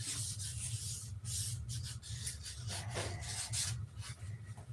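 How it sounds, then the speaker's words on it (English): Wood sanded by hand with sandpaper, close and steady, in quick back-and-forth rasping strokes that repeat in an even rhythm. "I need some heavier grit sandpaper than what I brought."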